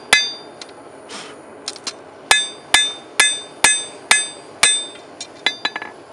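Steel skinning knife blade hammer-forged on an anvil, with about a dozen loud, sharp ringing strikes close by, some in a steady rhythm and a few lighter taps in between, no talking.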